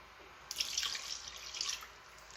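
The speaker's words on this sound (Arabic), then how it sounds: "نبداو نزيدو في الماء بسم الله، نفس الكاس اللي عبروا به" Water pours into a pot to make karantika batter, a soft, faint splashing stream that swells for about two seconds over a low room hush.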